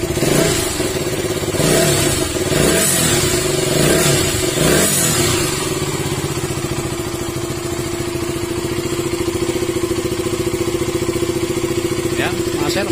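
A KTM Duke 200 motorcycle runs steadily after a cylinder head gasket replacement for an overheating fault, the engine idling loud and close with a few revs early on, while someone talks over it.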